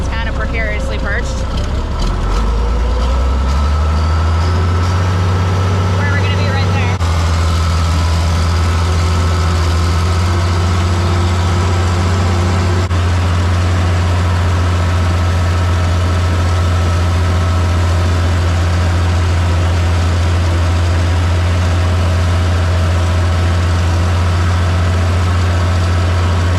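Tractor engine starting up and settling into a steady, loud idle drone as the power take-off engages a manure spreader, with a continuous low hum and mechanical rattle throughout and faint talk near the start.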